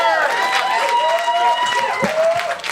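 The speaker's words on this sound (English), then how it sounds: "Big round of applause for Mr. David Pfeiffer." A comedy club crowd applauds a comedian being introduced, a steady wash of clapping with rising and falling whoops and cheers riding over it, fairly loud and close.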